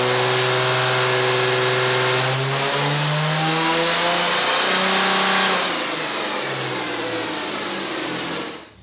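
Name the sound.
2019 RAM truck engine revving during a dyno pull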